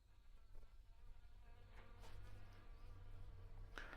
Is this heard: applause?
no